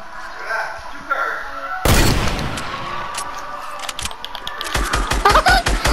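Pistol gunfire in Fortnite, a burst of loud broadband shots at around two seconds followed by a quicker run of sharp rhythmic shots near the end, over game ambience with voices talking.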